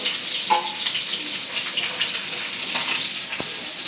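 Koi fish frying in oil in a home kitchen, a steady bright sizzle throughout with a few faint clinks and a brief tap near the end, no voices.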